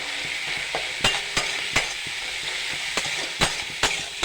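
Onion and grated ginger sizzle in hot oil in a pan, a constant crackling hiss broken by several sharp clinks and taps of a spatula against the metal.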